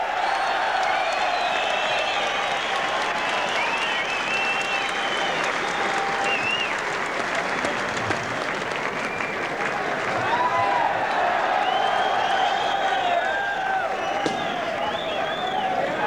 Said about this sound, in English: receiving the plaudits of this crowd who packed the Hordern Pavilion tonight to cheer him on